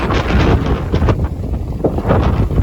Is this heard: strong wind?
yes